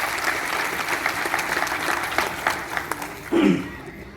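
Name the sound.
loud audience applause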